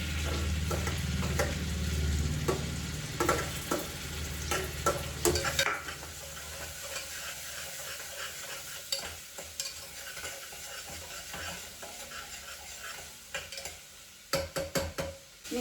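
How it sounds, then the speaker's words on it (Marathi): Onion is added to cooked garlic for a capsicum chicken curry and stirred until golden. A loud sizzle at first settles into a quieter fry, with intermittent spoon clatters against the pan. "आता कांदा टाकायचा आणि आपल्याला कांदा सोनेरी होईपर्यंत त्याला शिजवून घ्यायचा आहे"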